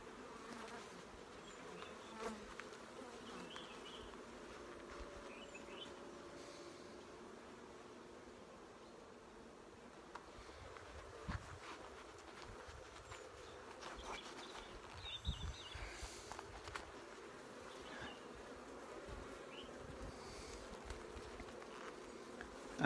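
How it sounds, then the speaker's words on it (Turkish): Dense, continuous buzzing of many honeybees close by at an open hive in winter, droning steadily throughout with occasional louder passes and faint background chirps. "Hırçınlaştı arı."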